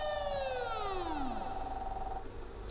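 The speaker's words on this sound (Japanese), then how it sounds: "何あのサイレン。" A flood warning siren sounds near a river during heavy rainy-season rain in a Japanese game about enjoying a rainy day, its multiple tones clear and sustained, gliding downward before settling into a steady wail that cuts off near the end.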